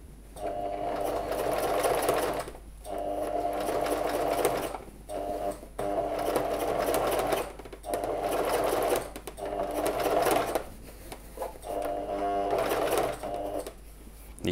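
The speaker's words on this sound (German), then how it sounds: "hier in dem Bereich beginnt die Maschine schon ziemlich zu würgen, weil da schon sehr viele Stofflagen aufeinander sind" Domestic sewing machine stitching a jeans fly through many stacked denim layers, running in rapid bursts of two to three seconds separated by short pauses, close and loud.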